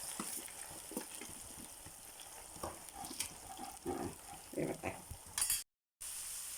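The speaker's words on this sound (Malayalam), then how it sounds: "ഫ്രഞ്ച് ഫ്രൈസ് ഇവിടെ റെഡി ആയിക്കൊണ്ടിരിക്കുകയാണ്." French fries frying in hot oil at home, a quiet steady sizzle with scattered clinks and stirring sounds, faint throughout and briefly cutting out near the end.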